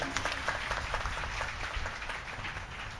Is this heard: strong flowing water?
no